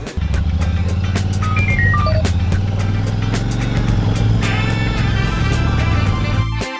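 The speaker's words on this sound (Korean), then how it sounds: "배기음이 이게 상당히 괜찮은데 이게 너무 크지도 않고 적당한 중저음이거든요." Royal Enfield Shotgun 650 motorcycle exhaust with a moderate, mid-low rumble and a pulsing beat, running steadily and loud close by, with tonal whine layered over the engine note and no talk.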